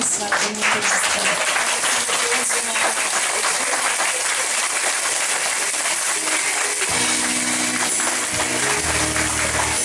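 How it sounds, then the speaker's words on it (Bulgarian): Wedding guests clap for the best man and maid of honour at a wedding celebration, a dense burst of applause that gives way to music with a low bass line near the end. "Моля за вашите усмивки и аплодисменти за Тони и Мишо"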